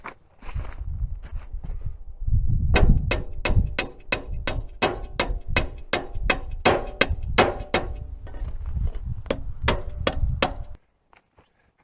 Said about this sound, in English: try to tighten it up a little bit more on the sides with the ball peen hammer